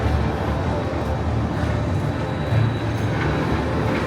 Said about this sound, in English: Another day, another Batman clone. B&M invert coaster.